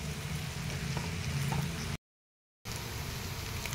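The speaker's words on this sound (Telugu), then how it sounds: "ఇంకా మూత అవసరం లేకుండా ఇలా బాగా ఒకసారి కలిపేసుకొని ఇలాగే ఫ్రై చేసుకోవాలండి" Bitter gourd and onion fry in a pan, a steady broadband sizzle that carries on continuously, broken by one brief dropout of silence midway before the same frying hiss resumes.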